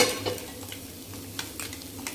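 Spices with a little water, salt, turmeric, red chili and coriander powder, are stirred in a pan with a gentle sizzle and repeated soft scraping strokes, close by, with no talking.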